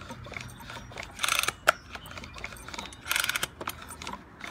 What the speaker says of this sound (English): That piston going up and down?